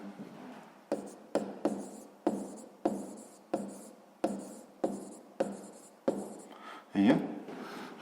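Pencil or pen scratches across paper while working a sixth-grade math exercise, about a dozen short, evenly spaced strokes close up, with a voice explaining in between.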